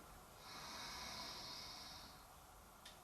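Slow, steady exhalation through the nose during a yoga breathing exercise, a soft breathy hiss that swells and fades over about two seconds, close and quiet, followed by a faint click.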